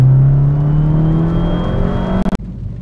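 An Abarth car engine pulls hard in second gear while boosting, a loud, steady close-up drone rising in pitch that cuts off abruptly at the end as the throttle lifts for a shift.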